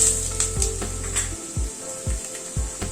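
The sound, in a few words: ginger paste frying with potatoes in pan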